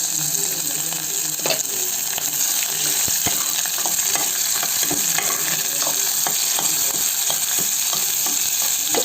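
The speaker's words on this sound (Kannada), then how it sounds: "ಸೊ ಇದನ್ನು ಹಾಕಿ ಸ್ವಲ್ಪ ಫ್ರೈ ಮಾಡ್ಕೊಬೇಕು" Chopped onions and large-cut green chillies fry in a pan for a chayote palya, giving a steady, loud, unbroken sizzle with occasional stirring scrapes and clicks throughout.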